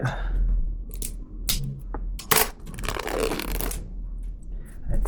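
Xiaomi Pad 7 tablet coming out of its retail box: close, dry rustles, scrapes and short crackling bursts of cardboard and packaging, irregular and fairly quiet, with one sharper crinkle midway and no talking.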